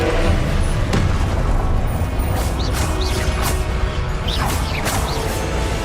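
A Confringo blast spell cast in the video game Hogwarts Legacy, loud booming bursts with whooshing, crashing effects over dense game sound, no talking.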